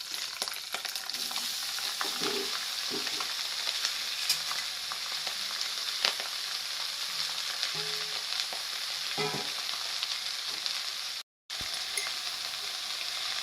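Curry leaves and chopped taro stems fry in a pan with a steady, bright sizzle, joined by occasional stirring knocks and scrapes, continuous for about thirteen seconds apart from one brief dropout.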